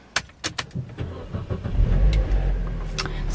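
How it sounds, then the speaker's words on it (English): A car engine starting up close: a few sharp clicks and knocks from the ignition, then the engine turns over and settles into a low, steady idle rumble. "Let me just turn my car on."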